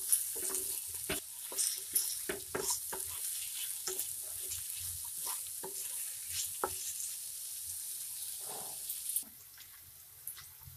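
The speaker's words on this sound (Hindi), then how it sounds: "अभी उसमें प्याज डाल देंगे, प्याज को हम अच्छी तरह से फ्राई करेंगे।" Onions sizzle and fry in hot oil while a spoon stirs and scrapes the pan for Punjabi chole masala, with clinks and crackles repeating close by throughout, alone without talk.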